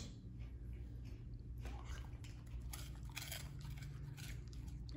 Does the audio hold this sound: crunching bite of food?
yes